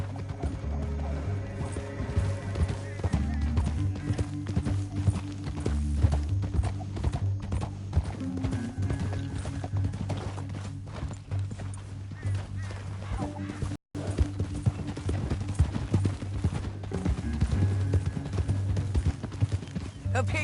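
Horses gallop with steady, rhythmic clip-clopping hooves that run throughout, loud and close, beneath a dramatic music score, with a brief dropout near the middle.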